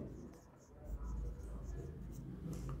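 Pen scratching across paper while an accounting journal entry is filled in, with a low voice talking faintly over the soft, continuous writing strokes.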